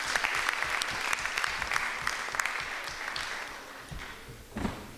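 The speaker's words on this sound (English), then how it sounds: "Another round of applause, please," Sustained applause from a meeting audience at a school advisory board session, a steady dense crackle of many hands clapping that gradually thins and fades, with a brief louder burst near the end.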